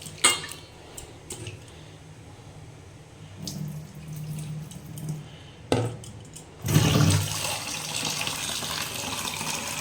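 Water splashes and pours into a bowl as flattened rice is washed by hand, with intermittent sloshing, a few knocks, and a louder rush of running water near the end, close by with no speech.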